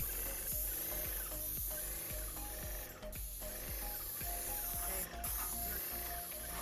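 Graco Magnum X7 airless paint sprayer working on brick and cinder block, a steady hiss of spray over a rapid ratcheting pump rhythm, continuous with a couple of brief dips, fairly faint.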